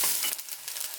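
Veggie chunks hit hot oil in a pan for a Jamaican vegan ital stew, giving a close, steady hiss of frying with faint crackles throughout, no voices.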